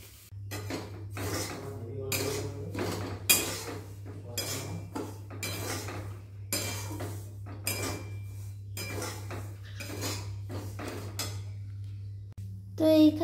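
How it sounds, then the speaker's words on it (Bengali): Semolina being dry roasted in a hot wok, with a spoon scraping and clanking against the metal in repeated close strokes over a low steady hum, while a voice talks in between. "আমি এখানে কড়াই গরম বসিয়ে দিয়েছি, এবারে আমি সুজিটাকে ড্রাই রোস্ট করে নেব।"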